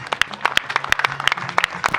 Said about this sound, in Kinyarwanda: abakuru ba Germain mu nteze amashyi mbashimire cyane.